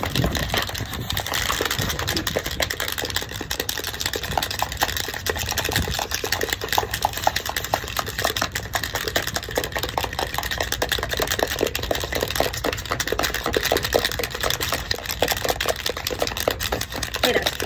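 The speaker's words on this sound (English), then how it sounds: "we are going to shake them for 1 minute and shake as hard as you can" Lab supplies with sandpaper rattle steadily inside a container shaken hard by hand, a dense, continuous clatter that stays loud and even throughout with no pauses.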